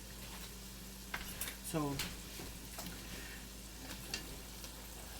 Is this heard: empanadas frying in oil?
yes